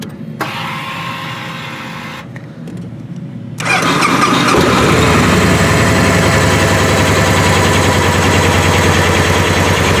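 A 2008 Victory Kingpin Premium motorcycle engine starts after a few seconds of quieter ticking and cranking, then settles into a loud, steady idle rumble close by, with no voices.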